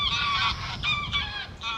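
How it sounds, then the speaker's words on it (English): Geese honk repeatedly in a close, loud series of bright nasal calls, several overlapping, with no talk over them. "got some birds"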